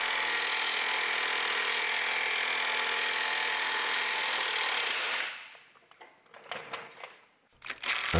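An impact gun runs on the last nut of the front axle of a car transporter being converted into an RV, heard up close. It makes a loud, continuous mechanical whir for about five seconds, then cuts off, followed by scattered quieter clanks and handling noises.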